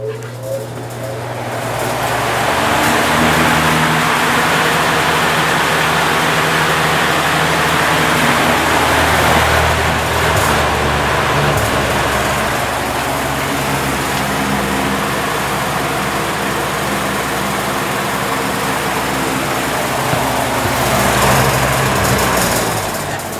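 A Lakewood 18-inch high velocity fan with a 4 amp General Electric shaded-pole motor starts up and runs, a loud, steady whooshing roar with an underlying motor hum, and a voice talking over it now and then.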